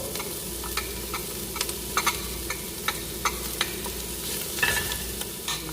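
Onion frying in a pan with bacon and calabresa sausage gives a steady, close sizzle with scattered crackles and light clicks of stirring throughout, no talking.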